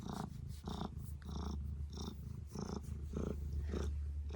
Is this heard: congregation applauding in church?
no